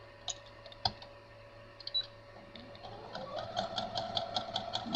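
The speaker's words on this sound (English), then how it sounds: "You just stitch them right on down there." A sewing machine stitches rag quilt fabric strips, its needle ticking in a quick, steady run that grows busier toward the end, with a few sharper clicks earlier and a faint hum beneath.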